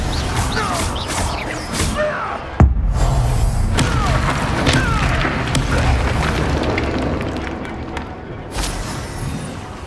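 Spell impacts from the Hogwarts Legacy video game, including an Expelliarmus hit, land as a loud boom near 2.6 seconds over a dense, continuous bed of magical whooshes and combat effects.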